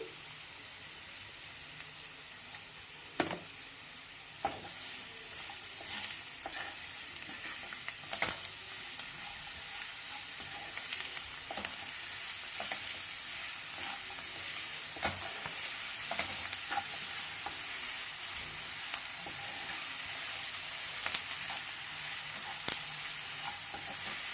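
Vegetables for poha fry steadily in a pan, a continuous close sizzle with scattered clicks and scrapes as they are stirred, no voices over it.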